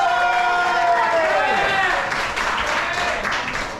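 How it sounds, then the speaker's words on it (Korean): Spectators at a boxing-style ring match clap for both competitors, steady applause mixed with crowd chatter and a voice over the top, the clapping fading slightly toward the end. "양 선수에게 큰 박수 부탁드립니다"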